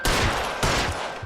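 Gunfire in the L.A. Noire video game: a rapid, loud volley of shots with two dense bursts close together, no talk.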